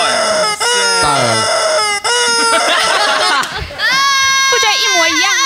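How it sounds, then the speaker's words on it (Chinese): Large geese honking loudly and close by, with repeated strident calls that run almost without pause and voices mixed in. "好漂亮的大鹅"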